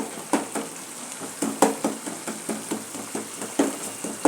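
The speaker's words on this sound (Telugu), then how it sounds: "చేప అంటే మసాలా ఎక్కువసేపు బాగా ఫ్రై చేయాలండి." Masala fries in a pan for a jelebi fish curry, with a soft sizzle broken by regular scraping strokes of a spoon against the pan, about three per second, close and moderately loud.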